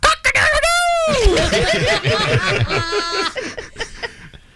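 A person imitates a rooster crowing with a drawn-out, rising and falling voiced call, followed by laughter and chatter from others nearby.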